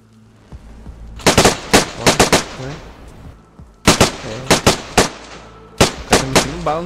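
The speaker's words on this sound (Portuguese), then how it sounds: "Bala nos zumbis." Bursts of gunfire aimed at zombies in the survival video game DayZ, three rapid clusters of sharp close shots separated by short pauses, with no talk over them.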